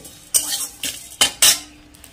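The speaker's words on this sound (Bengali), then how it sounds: "ধনেটা একটু নাড়িয়ে চাড়িয়ে জিরে দিয়ে দিলাম" Spoon stirring coriander and cumin seeds as they dry-roast in a pan for a mixed-vegetable dish, giving four sharp metallic scrapes and clinks against the metal, close and fairly loud, with no talking.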